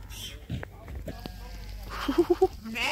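Sheep bleat in Gulmarg, Kashmir, a quick run of four short, close bleats following scattered voices and outdoor background noise.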